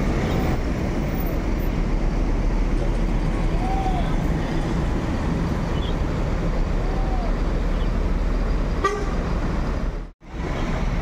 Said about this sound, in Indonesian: Diberangkatkan lagi Al-Hijrah yang kedua, Volvo 450 horsepower